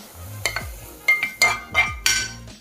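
Pan-fried pepper pieces being stirred with avocado cubes on a plate, giving a series of sharp clinks and scrapes of utensil against the plate at an irregular rhythm, close and clear with no talk.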